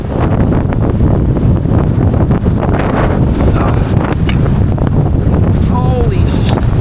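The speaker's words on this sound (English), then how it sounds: "the wind is blowing like 40 miles an hour" Strong wind buffets the microphone loudly and steadily throughout, a dense roaring rumble near a river, with brief faint voices partly buried under the gusts.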